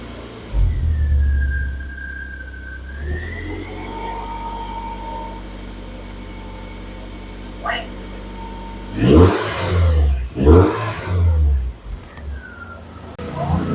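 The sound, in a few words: BMW E46 318i M43 engine running smoothly after flush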